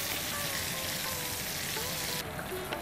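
Pointed gourd (potol) slices frying lightly in hot oil, a steady dense sizzle throughout with faint clinks, no voices.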